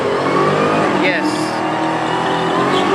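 A Dodge Hellcat races down a drag strip, its loud engine roaring close and steady for a few seconds, with a brief tire-squeal-like sweep and crowd and announcer voices behind it.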